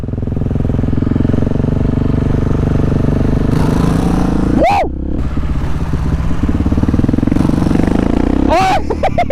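A Husqvarna 701 motorcycle engine drones loudly and steadily while riding, with two sharp rising-and-falling revs and clutch blips. People talk over the engine noise.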